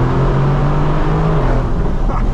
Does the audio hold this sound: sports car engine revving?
yes